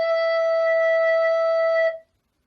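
A recorder plays a single sustained E, a clear, steady breathy tone held for about two seconds before it stops, with no other sound.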